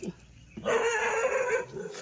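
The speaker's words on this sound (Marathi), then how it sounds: "चिमण्याना सुद्धा भुंकते" A single dog lets out a drawn-out bark or yelp, close by and fairly loud, with a short whine before it.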